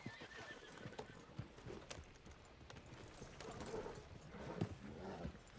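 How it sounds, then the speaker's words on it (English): In a video game roleplay, a horse whinnies and its hooves clip-clop steadily throughout, with ambient game noise underneath and a faint voice in the background. "In fact, I'll tie this horse up as well."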